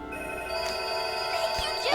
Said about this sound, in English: And I'm getting a phone call.